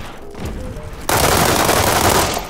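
M416 assault rifle firing in the World War 3 shooter game: a brief lull with a few shots, then a loud, sustained burst of rapid automatic fire that continues to the end.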